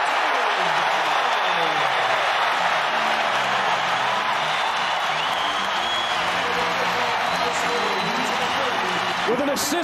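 Basketball arena crowd at a BYU versus Utah game roaring and cheering steadily through the final minute, a dense, loud wash of voices and applause with a commentator talking over it.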